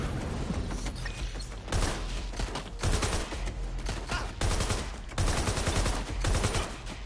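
Bursts of rapid gunfire from a Watch Dogs Legion shootout come in several dense volleys with short gaps between them. The shots are loud and close, with mechanical clatter mixed in.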